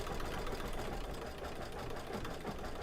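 An embroidery machine stitching a design in the hoop for a hexagon quilt block hums steadily and fairly close, with a continuous mechanical drone and no break.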